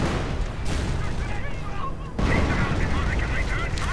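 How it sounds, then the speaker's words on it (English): Artillery fire in the Men of War real-time strategy game, a dense continuous rumble of booms and blasts with a sharp new explosion midway, heavy and close, layered under faint battle noise. "Artillery going in."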